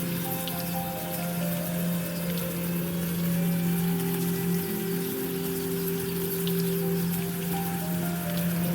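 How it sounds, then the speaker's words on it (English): Steady rain on a city night, a continuous hiss of drops falling on surfaces with an even wash and a low mechanical hum beneath, unbroken throughout. "This friggin' rain."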